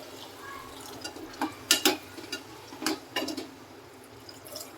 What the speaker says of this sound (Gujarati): હવે આપણે થોડુંક પાણી નાખી કુકરનું ઢાંકણું બંધ કરી દઈશું